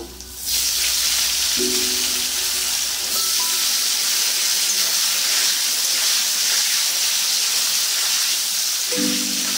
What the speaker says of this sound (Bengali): ওই তেলের মধ্যেই আলুগুলো দিয়ে দেবো